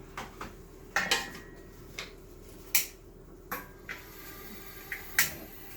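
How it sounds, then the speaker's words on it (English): A gas stove igniter clicking as the burner is turned on in a home kitchen, sharp separate ticks at irregular intervals, fairly close, with no talk. "Let me turn the gas on."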